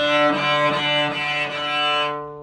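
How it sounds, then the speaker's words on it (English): A bowed string note played sul ponticello near the bridge, thin and glassy with a metallic, scratchy edge, sustained for about two seconds before cutting off. "you get that metallic-y, cool sound"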